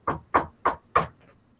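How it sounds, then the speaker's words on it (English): Four evenly spaced knocks on a bedroom door, close and distinct with a hollow wooden tone, then quiet. "walking over to the bedroom door. And he gives a little knock."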